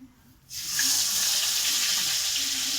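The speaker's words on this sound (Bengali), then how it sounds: "তো আমার তেলটা গরম হয়ে গেছে, আমি একটা একটা করে, বড় বড় মাছ তো একটা একটা করেই ছাড়বো।" Large fish pieces for a fish malai curry slide one at a time into hot oil, setting off a loud, steady sizzling hiss that starts abruptly and holds without a break.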